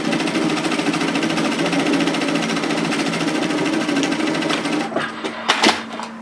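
A sewing machine runs in a steady, rapid stitching rhythm while sewing fabric for a reversible hooded infinity scarf, loud and close, then slows and stops with a few clicks near the end.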